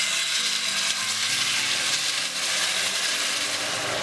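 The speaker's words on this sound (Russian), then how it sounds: "И сейчас я сюда выливаю 200 мл кипятка." Boiling water hits a hot frying pan of pan-fried manti filled with meat and pumpkin, giving a loud, continuous hiss and crackling sizzle that stays steady throughout with no voices.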